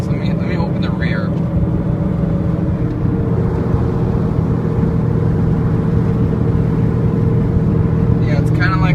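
A failing wheel bearing on a 2007 Subaru Impreza gives a loud, constant, steady hum while driving, layered with road and cabin rumble and unchanging throughout.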